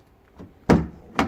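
Passenger door of a Nissan Qashqai 2.0i 140 hp shutting, a soft latch click followed by a solid close thunk and a second lighter thud, near and brief, no voices.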